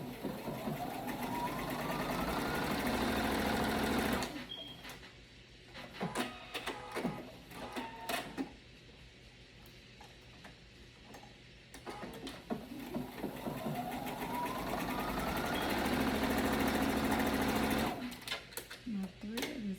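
Sewing machine running a straight stitch along a five-eighths seam on a sleeveless shirt, two long steady whirring runs at start and end with a quieter stretch of handling and talk between.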